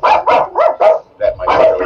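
Dogs bark loudly and close in a quick run of sharp barks, a brief pause, then another burst of several barks, heard during a Battlefield 2042 session.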